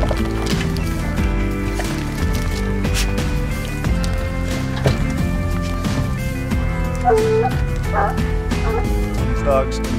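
Hunting dogs bark and yip repeatedly outdoors on a Canadian lynx hunt, the barks cutting through steady music and a voice.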